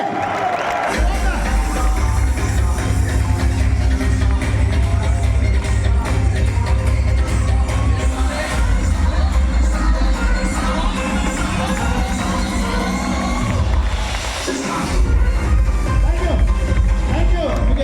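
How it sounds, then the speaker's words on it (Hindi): A standing audience at a direct selling industry business event applauds and cheers loudly and without pause for most of the stretch, with heavy bass music underneath and a short dip before the noise picks up again. "एक बार खड़े होकर तालियां बजाओ डायरेक्ट सेलिंग इंडस्ट्री के लिए।"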